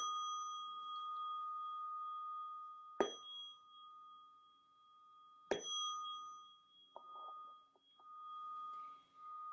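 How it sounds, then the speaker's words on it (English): A meditation bell rings twice at a calm group session, each a sharp bright strike followed by a long sustained shimmering tone, with faint softer taps near the end. "We're going to ding our bell."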